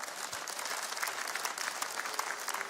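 A church congregation applauding the Lord, a steady dense burst of clapping from many hands at a moderate distance, with no one speaking over it.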